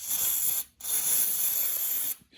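Mass airflow sensor cleaner is sprayed into an Infiniti's airflow sensor in two close, hissing bursts, a short one and then a longer one, each stopping abruptly.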